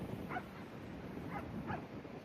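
On Perranporth beach, a few distant dog barks carry over steady wind and crashing surf, three faint short yaps spread across a couple of seconds.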